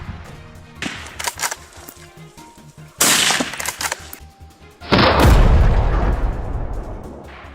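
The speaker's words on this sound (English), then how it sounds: "the sharp gunshot shatters the stillness of the crisp morning air" Gunfire rings out over Turkey's rugged mountains at dawn during a wild boar hunt, with a few sharp cracks early on, then two loud booming blasts that trail off into a long rumbling echo.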